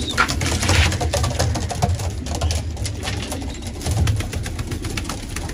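Pigeons cooing softly in a coop, low repeated coos over a rustling, fluttery background, near and fairly quiet.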